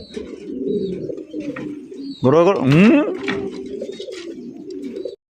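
Andalusian pigeons coo continuously at a farm, a low, rolling murmur close by, with one louder, rising call in the middle.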